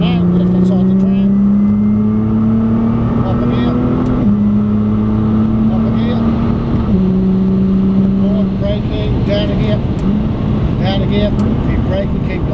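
A Nissan GT-R engine accelerates hard on a race track, its rising drone climbing through several gear changes, loud and continuous, with an instructor talking over it.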